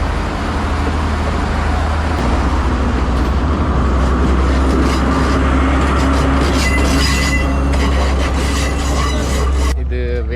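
A train rumbles past close by on the Nine Arches Bridge in Ella, Sri Lanka, loud and continuous, with wheels squealing and clattering toward the end.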